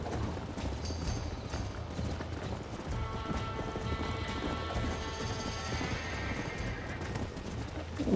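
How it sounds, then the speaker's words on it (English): Horse hooves clip-clop steadily throughout a Red Dead Redemption gameplay scene, a dense, continuous galloping rhythm with a brief whinny mixed in, loud and close with game ambience behind. "O cavalo aqui, tá certo."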